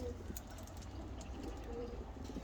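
Ottoman Hünkari pigeons coo softly, muffled inside a box as it is opened, with faint chirps and a steady low background hum.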